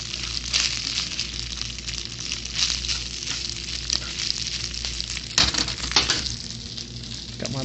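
Chicken cooking in oil and butter in a pan, a dense continuous sizzle and crackle throughout with a brief louder clatter midway, close and steady with no talk.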